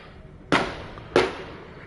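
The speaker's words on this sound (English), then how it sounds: "you'll be hearing a lot of booms because of the fireworks" Two sharp fireworks booms on the 4th of July, about half a second apart, each a sudden loud crack that fades into a short rumbling tail, over a quiet background.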